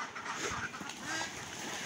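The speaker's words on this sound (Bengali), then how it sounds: "তো দেখেন হাঁসগুলো ছাড়লাম, হাঁস সব বেরোয় যাইতেছে আমার হাঁস" A flock of Khaki Campbell ducks gives a brief burst of fairly quiet, overlapping quacks as they are let out of their farm shed.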